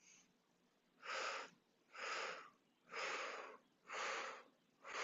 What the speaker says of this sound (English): a small little sniff that each one's taking another step in